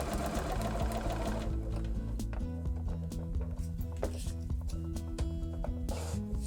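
A sewing machine runs steadily as it stitches pieced fabric for a small quilted ornament, a continuous close mechanical whir with a rhythmic needle chatter throughout.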